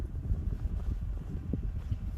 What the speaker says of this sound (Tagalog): Mahangin talaga siya.